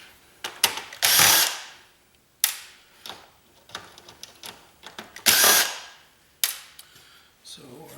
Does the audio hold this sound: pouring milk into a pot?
no